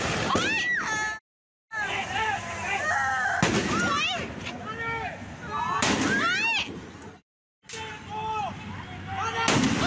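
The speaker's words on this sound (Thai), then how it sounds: "เสียงระเบิดมาก" Bombs are thrown back and forth across a busy street in Suphan Buri, Thailand, while traffic passes. Sharp blasts and cracks go off repeatedly, mixed with excited voices, and the sound cuts out briefly twice.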